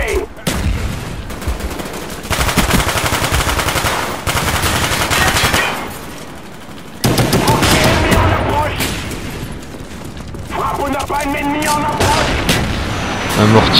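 Mortar strikes land in a Call of Duty match: repeated loud, close blasts and crackling bursts of gunfire come in heavy waves separated by brief lulls.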